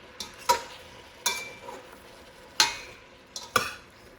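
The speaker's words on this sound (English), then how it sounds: "Now we're just going to stir." A spoon stirring rhubarb compote in a pot, giving a few distinct scraping clinks spaced irregularly against a quiet background, close by.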